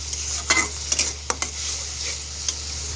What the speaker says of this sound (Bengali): তেলের মধ্যে একটু ভেজে নিচ্ছি।